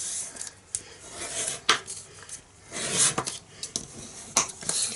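Paper burnished firmly along score lines while making a gift bag, close scraping and rubbing strokes in irregular bursts with sharp taps and clicks between them.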